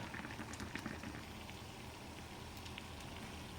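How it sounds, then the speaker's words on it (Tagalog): Eggplant boiling in a pot of water on the stove for a stuffed eggplant omelette, a soft continuous bubbling and simmering hiss, faint and steady with no talking. "habang nilalaga natin yung talong"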